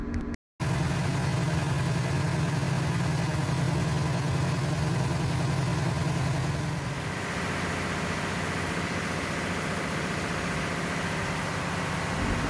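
A ship's emergency generator engine runs steadily with a loud, continuous mechanical drone after a momentary cutout at the start, its tone shifting slightly midway as the running continues without talk.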